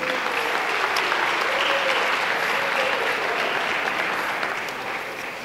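Sustained crowd applause for the officials at a girls' high school volleyball match in a gym, Belgrade against Fergus: a steady, dense wash of clapping throughout that tapers off slightly toward the end.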